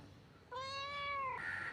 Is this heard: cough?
no